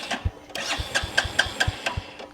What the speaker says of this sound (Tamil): ஸ்டார்ட் பண்ணுறது பார்த்தீங்கன்னு சொன்னால் இந்த ஸ்விட்சை பிடிச்சி ட்விஸ்ட் பண்ணிங்கண்ணா